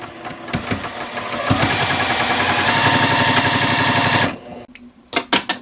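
A sewing machine stitches a triangle onto a row of a basket quilt block, running in one steady burst of rapid, even pulses for about three seconds before stopping, followed by a few light clicks and handling sounds.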